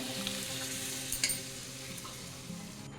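Water from boiled peas goes into a pan of frying ghugni, giving a soft, continuous sizzle and bubbling at close range, with a few light clinks of stirring partway through and no voices.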